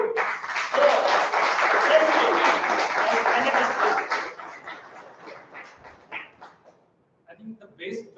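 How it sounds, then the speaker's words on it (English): Meeting audience breaks into a sustained round of applause, dense and steady for about four seconds before thinning into scattered claps and quiet murmurs. "So have a huge round of applause."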